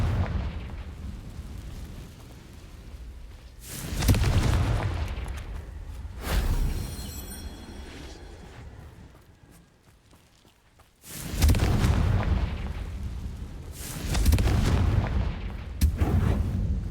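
Confringo fire spells in Hogwarts Legacy set off loud, booming fiery explosions with long rumbling tails, several in a row separated by a brief quieter lull.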